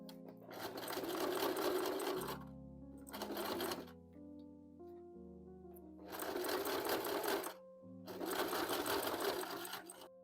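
Close, loud sewing machine stitching a difficult bag seam 1.5 cm from the edge, four bursts of rapid stitching separated by pauses with a low tonal hum between them.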